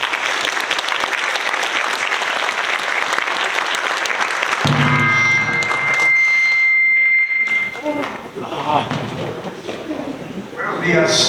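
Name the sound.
audience applause welcoming a speaker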